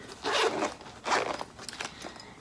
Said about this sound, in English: It's just a little zipper bag.